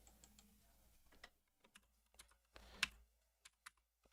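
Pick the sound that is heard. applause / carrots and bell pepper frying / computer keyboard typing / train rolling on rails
computer keyboard typing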